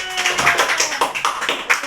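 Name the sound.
clapping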